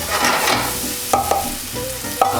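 Garlic and mushrooms sizzle and fry in a pan while being stirred, with a steady crackle broken by a few sharp scraping clicks of a utensil, close and fairly quiet.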